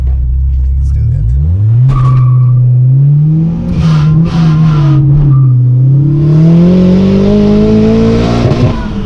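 Mk2 Golf, turbocharged and supercharged, driven hard with an engine note rising and falling and tires squealing, loud and close, with people talking over it.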